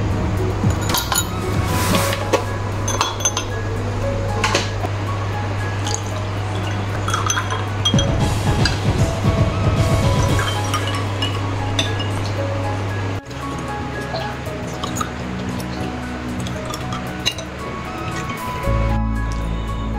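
Juice and ice cubes pour and clink into a glass of fresh homemade mint juice with soaked sabja seeds, bright splashing and glassy chinks close by over a steady low hum, with no talking.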